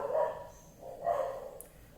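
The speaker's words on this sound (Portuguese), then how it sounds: "Olha o cachorro aí." Two muffled dog barks sound a second apart, fairly close and moderately loud, with a quiet background between them.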